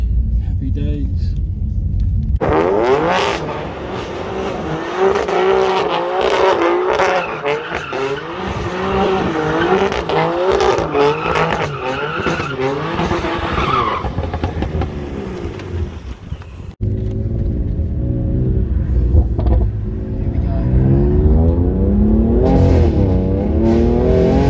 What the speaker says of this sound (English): Wow, that exhaust sounds sick.